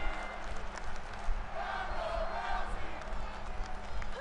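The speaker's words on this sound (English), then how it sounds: "Crowd chanting Ronda Rousey" A wrestling event crowd roars and chants for Ronda Rousey during a Hell in the Cell match, a dense, continuous wall of voices rising and falling in the arena without any clear break.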